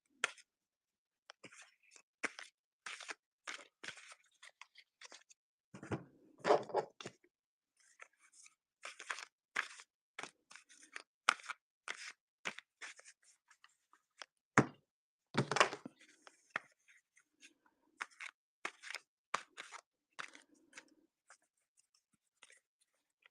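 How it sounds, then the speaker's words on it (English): Magic: The Gathering trading cards are shuffled and handled close up: irregular bursts of crisp flicking and soft card taps, with a few duller thumps, in quiet surroundings. "Then we'll shuffle these into these and those into those."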